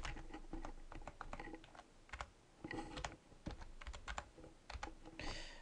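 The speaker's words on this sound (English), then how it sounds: "as they're keying information using your keyboard or mouse" Someone enters information on a computer keyboard during a paperless Form I-9 demo, with quick, irregular bursts of clicking keystrokes, some pauses between runs and no talking.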